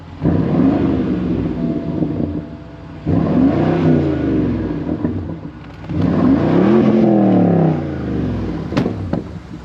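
A BMW X5M 5.0i engine with back box delete exhaust revs hard three times, each rise swelling and falling in pitch, loud and close with a deep growl and no talking.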